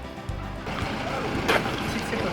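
A waterfall in Nepal's Manaslu region gives a steady, broad rush of falling water, with a brief louder splash midway and voices talking over it.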